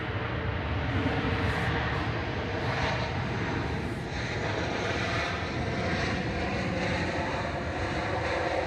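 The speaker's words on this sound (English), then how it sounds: "Got little Beechcraft King Air." A small Beechcraft King Air propeller aircraft drones steadily at Manchester Airport, a constant broadband engine hum with some wind buffeting and no voices.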